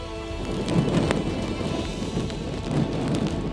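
Heavy rain lashes down as Cyclone Dana strikes Bengal, a steady roar of downpour and wind with low rumbles of thunder swelling in and out.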